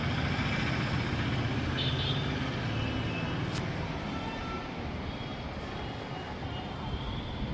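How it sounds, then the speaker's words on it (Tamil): Road traffic is heard from an upstairs room as a steady broadband rumble of passing vehicles, moderately loud and unbroken, with no distinct horns or voices. "நான் மாடியில் வந்து இருந்தாலுமே வண்டி சத்தம்லாம் கேட்கும்"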